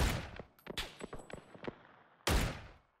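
Gunshots in the video game PUBG ring out as a quick volley of sharp cracks, then a pause, then one heavy, louder blast that decays into silence.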